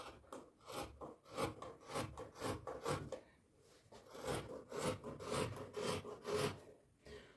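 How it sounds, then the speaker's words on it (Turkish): Scissors or a blade cut through trouser fabric in repeated rasping strokes, close and fairly quiet, in two rhythmic bursts separated by a short pause. "Şimdi pantolonu kesmeye başlıyorum."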